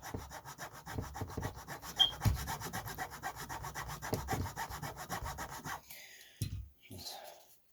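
Hacksaw cutting material for an RC4WD TF3 steering fix, rapid rhythmic back-and-forth rasping strokes up close for several seconds, then a pause and a couple of knocks.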